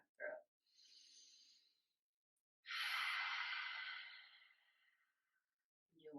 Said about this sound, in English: Feel that breath and hear that sound at the back of the throat.